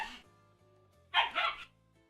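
Dogs barking indoors in a home, two quick loud barks in close succession after a brief moment of faint talk, then quiet.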